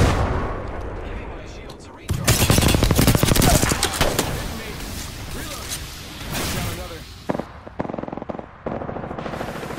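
Rapid bursts of automatic gunfire in an Apex Legends battle, loud and dense through the middle, with sporadic shots later, while a voice talks over the action.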